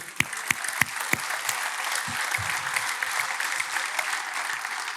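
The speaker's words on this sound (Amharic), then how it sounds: "እስቲ እጃችሁን አንሱ፣ በደንብ አጨብጭቡ።" A church congregation clapping at a Protestant service, with a few sharp claps at first swelling into sustained applause from a crowd in a reverberant hall, moderately loud.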